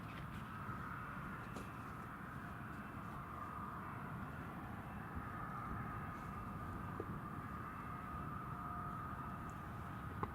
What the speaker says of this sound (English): the Ryanair flight is going to Tenerife